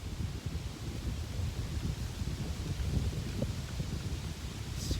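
Strong gusting wind roars steadily against the microphone in the woods during a small game hunt, a dense low rumble with rustling throughout and no talk.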